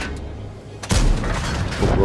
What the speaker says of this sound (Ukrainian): І ще один постріл